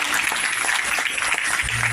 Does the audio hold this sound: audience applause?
yes